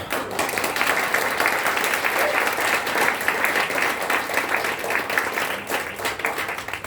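Sustained applause from a large seminar audience, dense steady clapping filling the whole stretch without pause.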